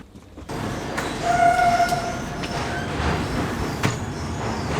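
A passenger train in India rumbles along, with a steady rolling roar, brief tonal squeals and occasional clanks from the cars, heard from inside with no talk.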